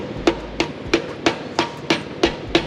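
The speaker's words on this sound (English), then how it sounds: "just take a little hammer and tap them in a little" A small hammer taps ECS poly bushing inner slugs into a BMW F22 M240i suspension part, eight sharp metallic knocks in a steady, even rhythm, close and loud with no talk.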